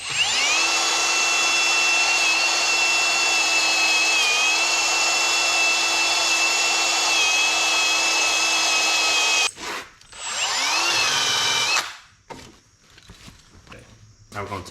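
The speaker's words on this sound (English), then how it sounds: "We'll just hit it with the rubber wheel and see what happens." A power tool spinning a rubber eraser wheel against a car bumper sticker, a loud steady high whine holding for several seconds, then cutting out, briefly spinning up again and stopping, with faint handling noise after.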